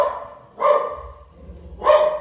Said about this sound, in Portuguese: E o Stan está latindo